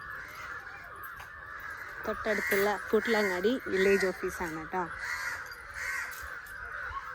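Crows caw loudly in a rapid series of harsh calls close by, while a person talks over them.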